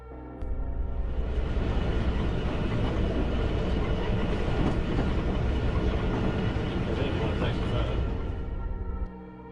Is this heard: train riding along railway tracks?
yes